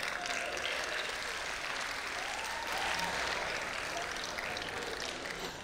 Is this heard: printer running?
no